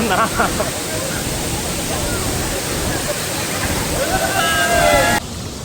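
Soormane Falls pours with a dense, steady roar of rushing water, loud and close, with faint voices mixed into the spray before the sound drops slightly at the end.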